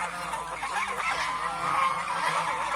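Goose goslings call in a rapid stream of thin, high peeping honks, close and fairly loud, with no one speaking.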